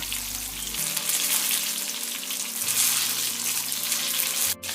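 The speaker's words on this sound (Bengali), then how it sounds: "বেগুনের এক পাশ মোটামুটি ব্রাউন করে ভাজা হয়ে গেছে" Eggplant slices frying in oil for Bengali begun bhaja, browning on one side, making a steady, fairly loud sizzle and crackle throughout with a low hum beneath and a brief knock near the end, without talk.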